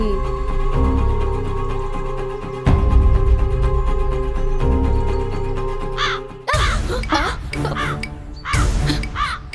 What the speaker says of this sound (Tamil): ஸ்வேதா, காக்கா இந்த மாதிரி தலையில அடிச்சா நல்ல சகுனமே இல்ல